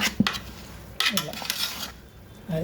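Mango pickle being mixed by hand in a bowl, with wet squelching, stirring and scraping noises plus a few clinks against the dish, in short close bursts.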